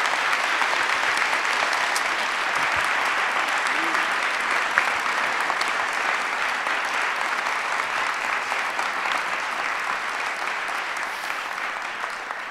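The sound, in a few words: audience applause at a summit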